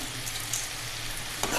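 Tomatoes fry in a pan with a pinch of rock salt, giving a continuous close hiss and sizzle with a brief stir scrape near the end, no voices.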